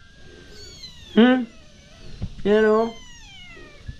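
A cat meows twice on a terrace, each a clear, drawn-out, near cry with a short pause between them, while a person speaks briefly nearby.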